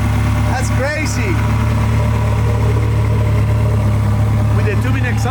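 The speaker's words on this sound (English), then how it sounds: "Capristo exhaust system, so that's actually a special aftermarket product" A Ferrari F360 engine idles with a deep, steady rumble through a throaty aftermarket Capristo exhaust, close by, while people talk faintly over it.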